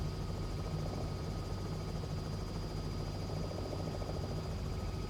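A Cowansim Robin helicopter in Microsoft Flight Simulator 2020 flies a traffic pattern with a steady, dense rotor and engine drone that holds level and unbroken throughout.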